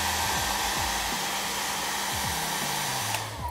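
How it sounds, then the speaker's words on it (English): A hair dryer blows steadily on weathering paint on a model, a loud continuous whoosh with faint bumping thuds behind it, cutting off near the end. "Pop the hairdryer on that"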